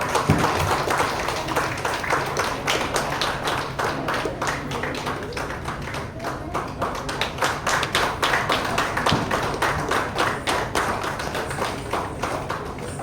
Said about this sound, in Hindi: आपकी तालियां जोरदार बजनी चाहिए।